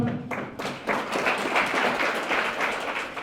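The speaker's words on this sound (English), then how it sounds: "A round of applause to the Super Senator." A crowd at a book launch bursts into applause, steady clapping from many hands filling the room for several seconds.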